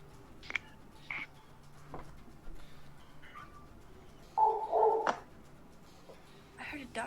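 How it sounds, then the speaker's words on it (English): A dog barks a few times in the background, short sharp yaps scattered across the moment, with a longer bark near the middle, faint and distant, under quiet room noise and occasional talk. "I heard a doggy."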